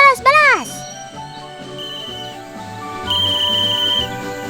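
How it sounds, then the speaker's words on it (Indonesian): A sharp warbling whistle, used to call sun bears to feed, blows once at the start, then a steady mix of voices and tonal background sounds follows. "Bunyi peluit diibaratkan panggilan untuk makan"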